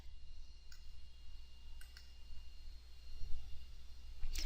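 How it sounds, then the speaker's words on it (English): A single mouse click on a Submit button in school staff-management software, heard as a soft, brief tick, one of a few faint clicks over a steady low background hum. "Now click Submit."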